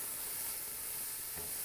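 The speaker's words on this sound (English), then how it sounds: "You always want to hear that sizzle." Onions sizzling as they fry in a hot pan over an open flame at a cottage, a steady close crackling hiss with no voices.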